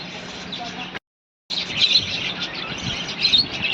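Small birds chirp and twitter busily nearby, with a brief silent gap early on, then the chatter continues over a light outdoor background.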